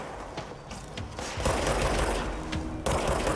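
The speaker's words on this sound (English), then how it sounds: "Why are you shooting at me, bro?" Enemy gunfire rattles in the video game Control, a dense run of rapid automatic shots that holds loud and continuous with no voice over it.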